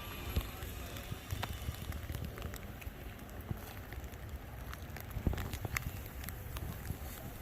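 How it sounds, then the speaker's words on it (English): Steady rain patters over the stone castle ruins of Valkenburg, making a dense, even hiss with scattered sharper drips and some wind, close by and continuous without speech. "of course it's raining still"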